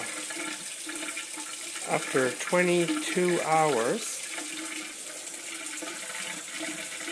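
Water runs from a tap after hot water is restored following an outage, a steady hiss that continues under a voice speaking briefly, with a tonal whine rising in the middle.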